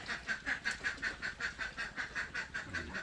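Ducks quack in a steady, rhythmic series of calls at a backyard duck pen, fairly faint and unbroken by talk.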